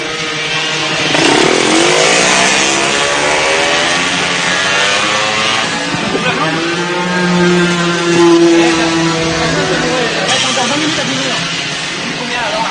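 MBK mopeds racing in the 1985 Le Mans 24-hour moped endurance event: small two-stroke engines rise and fall in pitch as they rev and pass, fairly close and loud throughout, with a voice talking over the engine noise.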